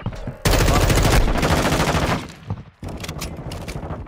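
Loud, dense automatic gunfire from a multiplayer shooter game hardpoint match rattles continuously, then breaks off and resumes in a second burst, sounding close.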